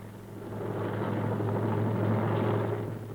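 A steady, continuous rotor-and-engine drone of military helicopters flying during the 1971 India-Pakistan war, holding a constant low hum without any voices.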